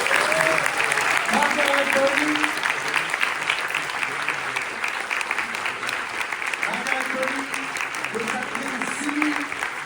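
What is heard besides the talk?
audience applause at Cannes film premiere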